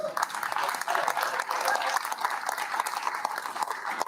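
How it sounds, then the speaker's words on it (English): An audience at a farewell evening gives a sustained round of applause for Adrian Brennan, a dense, even wash of many hands clapping throughout, fairly close, with faint voices mixed in. "A special round of applause for the most thankless job of the evening, Adrian Brennan."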